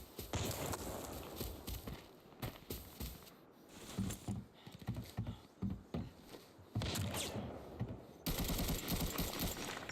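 Gunfire in the Arena Breakout Mobile shooter, heavy-recoil weapon: rapid bursts of automatic shots in clusters over ten seconds, with footstep-like patter between bursts, fairly loud and close.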